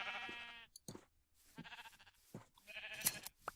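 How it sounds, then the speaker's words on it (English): Sheep bleating in Minecraft, a handful of short, wavering bleats in an irregular sequence, close and fairly clear, with quiet gaps between the calls. "black sheep over here."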